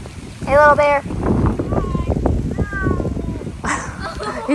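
A cat named Alice gives a couple of short meows close by, outdoors in wet, windy weather as Hurricane Milton approaches, with a person speaking around the calls.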